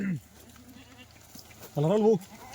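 A Kathiawadi goat bleats loudly once near the end, preceded by a shorter bleat at the start, with quiet background between, at a goat sale.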